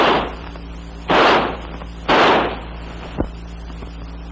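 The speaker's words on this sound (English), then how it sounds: "By closing the bolt and turning the selector lever to semi, the rifle will fire semi-automatically." Two loud, sharp broadband bursts about a second apart, followed by a smaller click, from an M16 5.56mm rifle firing semi-automatic single shots, each blast ringing off briefly over a steady low background hum.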